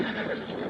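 A horse neighs in a radio-drama style sound effect, a short loud whinny close up that fills less than a second.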